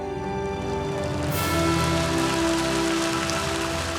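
Rain sound effect: a steady, dense wash of falling rain on a surface, loud and continuous, with a slight swell partway through and no voices.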